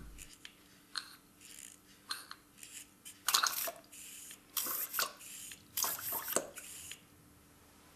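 A lab dosing syringe is pumped repeatedly to draw up water, giving a series of short wet squelching and sucking bursts in an irregular rhythm, close and fairly clear, with quiet gaps between strokes.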